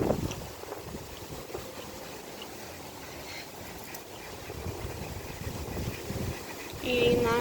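Gusty wind buffets the microphone outdoors on a windy day where tortoises graze on grass, a continuous low rumbling roar; a person speaks faintly and a brief bird-like call comes near the end.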